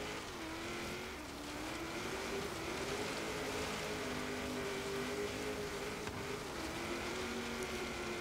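A 1995 Mitsubishi Eclipse GSX with all-wheel drive and bodywork modifications, driven offroad in Forza Horizon 3, holds a steady engine drone with a wavering pitch and faint tire noise, continuous and fairly close throughout.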